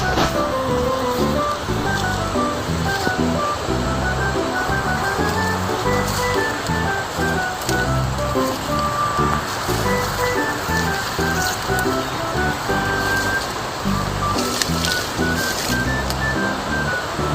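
Strong floodwater surges after heavy rain, a loud, continuous churning rush with steady splashing and roar that fills the whole stretch without pause, with no talking over it.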